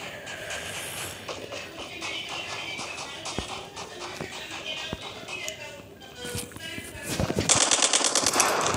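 Gunfire in a video game, rapid bursts of automatic shots and scattered single reports over busy in-game noise, growing louder and denser near the end, with someone talking over it.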